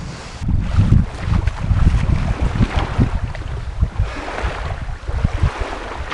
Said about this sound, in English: especially when the wind's hacking in like it is